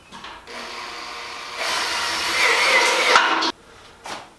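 A power screwdriver drives screws into a self-supporting ceiling, with a whirring motor run that rises and strains for a couple of seconds, stops abruptly, then gives a brief final burst.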